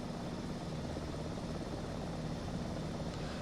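Helicopter flying over the Olympic lakes in Microsoft Flight Simulator 2024, a loud steady rotor and engine drone filling the whole stretch without pause.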